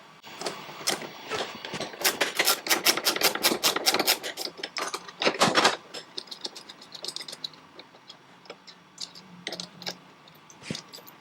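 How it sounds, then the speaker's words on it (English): Metal tool work on a car's bent tie rod as it is undone from the steering column end with a 5mm Allen key and a 13mm ring spanner, giving a close run of quick ratcheting clicks and scraping taps that thin out into sparse knocks. "Now we can remove the other end from the steering column. Same thing, using the 5mm Allen key and the 13mm ring spanner."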